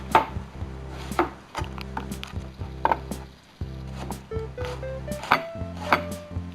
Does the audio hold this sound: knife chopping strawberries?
yes